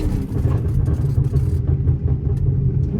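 Chrysler 300 heard from inside while driving: a close, steady low engine rumble and exhaust drone, with the pops not clearly separable from the continuous sound.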